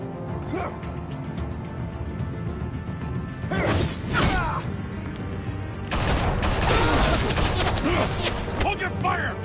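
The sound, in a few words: gunfire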